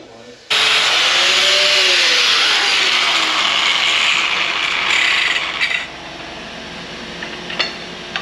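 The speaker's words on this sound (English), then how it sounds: "the only way to get this off is to grind it off with an angle grinder" An angle grinder cuts into a seized wheel stud on a vehicle hub during a brake job, a loud steady whining grind starting abruptly and holding for about five seconds before dropping away to quieter clatter.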